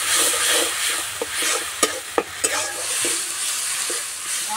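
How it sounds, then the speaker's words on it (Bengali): A Bengali spice paste of chili, cumin and turmeric powder with a splash of water fries in a pan for egg poach curry, a close steady sizzle marked by repeated scraping strokes of a spoon. "মশলা কষানো হয়ে গেছে"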